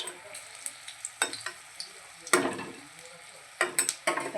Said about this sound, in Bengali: বক ফুলের বড়া আমি ভেজে রেখেছি, আর এটা ভাজছি, বাকিগুলোও ভাজবো